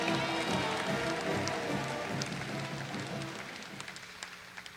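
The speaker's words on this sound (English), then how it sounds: "let's have a final round of applause for our student athletes from Rowlett High School" Applause for student athletes at a high school athletic signing day: a crowd claps steadily and densely, filling the room, then thins toward the end into a few scattered claps.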